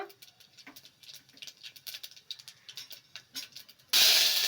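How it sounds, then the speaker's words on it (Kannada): Mustard seeds and cumin spit and crackle in hot oil for a Kannada-style basale soppu tambuli tempering, a run of quick close pops and patters that breaks into a loud, steady sizzling hiss near the end. "ಮೊದಲು ಸಾಸಿವೆ ಹಾಕೊಬೇಕು ಒಂದು ಅರ್ಧ ಟೀ ಸ್ಪೂನು ಜೀರಿಗೆ ಹಾಕೊಬೇಕು"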